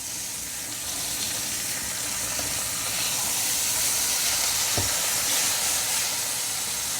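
A smash burger patty hisses and sizzles steadily in a hot pan just after being flipped, a loud continuous frying hiss with no talking.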